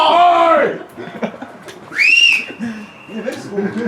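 A referee's whistle sounds at a football match, with a clear rising-then-level blast near the middle and a shorter sweeping tone at the start. People talk nearby, heard close and fairly loud.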